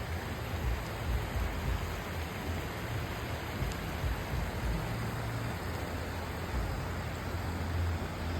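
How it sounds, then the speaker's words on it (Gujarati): A river near Sasan in Gir flows with a dense, even rushing hiss that stays constant throughout, unbroken and without voices. "નદીનો અવાજ આવે છે મસ્ત"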